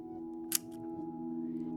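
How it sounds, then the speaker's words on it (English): A film camera's shutter gives one crisp, short click, fairly close, over a steady low hum of outdoor ambience at the Grand Canyon. "Imagine reaching in your pack to grab the film camera to capture this moment and click the shutter."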